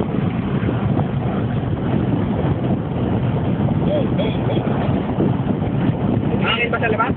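Steady wind noise buffets the microphone throughout, with people talking under it.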